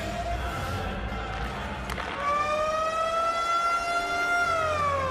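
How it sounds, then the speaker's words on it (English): A loud, sustained end-of-period horn from NHL 20 hockey, Montreal Canadiens against Boston Bruins, enters about two seconds in and holds a steady tone over constant arena crowd noise to the end. "Horn sounds, and that concludes the first 20 minutes of play."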